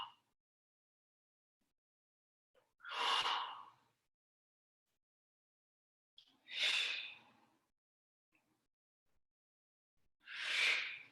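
Three hard, forceful exhales during dumbbell rows in a back workout, each a loud breathy burst lasting about a second, spaced a few seconds apart with near silence between.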